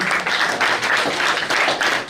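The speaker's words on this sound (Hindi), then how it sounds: "आदरणीय हमारे सर राणा साहब के लिए जोरदार ताली।" Crowd applause at a BJP leaders' oath-taking ceremony in Delhi, a dense, steady wash of clapping from many hands that holds loud for the whole stretch with slight swells.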